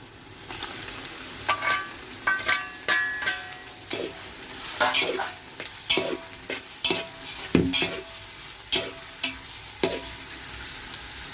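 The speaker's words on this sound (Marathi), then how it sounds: "कांदा चांगला गुलाबी झालेला आहे। आता टाकणार आहे बारीक चिरलेला टोमॅटो" Onions frying in a pan with finely chopped tomato added for biryani, a soft sizzle under repeated close utensil scrapes and clinks against the pan in an irregular stirring rhythm, no talk.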